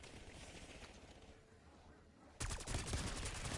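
A sentry turret in the Black Ops 6 game firing a sustained, rapid stream of shots that starts abruptly partway through, loud and continuous, after a quieter stretch of background game noise.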